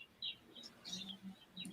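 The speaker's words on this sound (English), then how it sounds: "We can hear the birds in the background." Several birds chirp faintly in the background, giving short, scattered high tweets over a low steady hum without talking.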